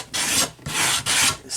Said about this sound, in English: I need to make sure everything is sanded smooth and level